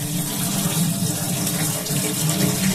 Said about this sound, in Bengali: বাকিগুলো ধুয়ে নেব এইরকম এভাবে কুচলে কুচলে ধুয়ে নিতে হবে একদমই যেন এর জলটা না থাকে